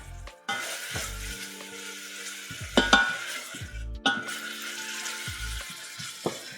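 Chopped onions sizzle steadily in a pan as they cook down for Afghan mantu, with a few sharp clatters of stirring breaking through the close, continuous frying.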